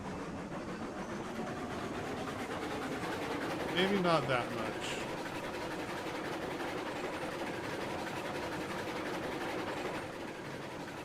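A steam locomotive in the co-op railway game Railroads Online chuffs and rumbles along the track, with a brief rising whistle partway through, while someone talks over it.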